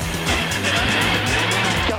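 Rally car on the first special stage of the Rallye Aveyron Rouergue 2016, its engine droning and revving between gear shifts with gravelly road and tire noise, fairly close and continuous across the short stretch.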